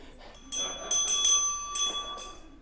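Bell rings in a city council meeting hall: several bright, ringing strikes in quick irregular bursts, each leaving a sustained metallic tone that decays between hits, loud against a quiet room.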